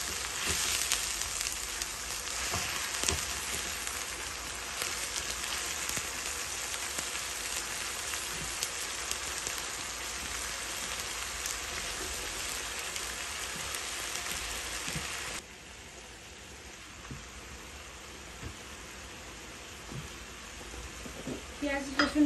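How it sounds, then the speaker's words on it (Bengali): Garlic and onion paste frying in oil in a pan, a dense, even sizzle like light rain that goes on for the whole stretch and drops a little softer partway through, with a few faint clinks and no talking. "আমি 5 টেবিল চামচ রসুন আর পেঁয়াজের পেস্ট দিয়ে দিলাম।"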